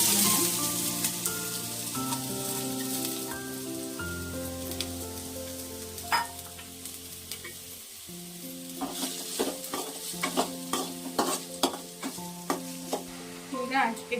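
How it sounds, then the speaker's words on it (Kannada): Finely chopped onions fry in oil for egg rice, giving a soft crackling sizzle that grows into sharper popping and spattering over steady background music. "ಅದನ್ನು ಆಯಿಲಲ್ಲಿ ಹಾಕಿ ಫ್ರೈ ಮಾಡ್ಕೊಳ್ಳೋಣ."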